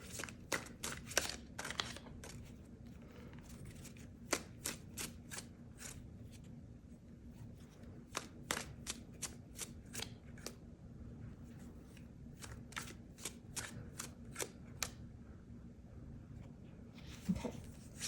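Tarot cards are shuffled by hand in repeated quick riffles and slaps, close and fairly quiet, over a low steady hum, with no talking.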